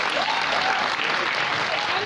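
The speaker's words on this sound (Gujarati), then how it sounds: "પ્લીઝ તાળીઓથી જોરદાર એમનું સ્વાગત કરીએ" A prize-distribution audience at an inter-school one-act drama competition claps warmly to welcome guests. The applause is dense and continuous, filling the whole moment, with a voice faintly present beneath it.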